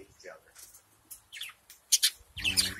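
Pet parakeets, one blue and one green, chirp in short bright bursts and twittering calls, close and fairly loud, with a denser flurry of chattering at the end and a soft voice murmuring between the calls.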